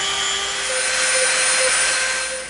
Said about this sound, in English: we're going to get our Dremel out and we're going to Dremel the edges of these to be soft, round edges